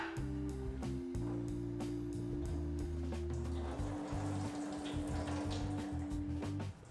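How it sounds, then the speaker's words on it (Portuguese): Soaking water from soy meat is poured off into a kitchen sink, a faint, continuous splashing stream that runs for several seconds without talking. "Vou jogar fora essa água."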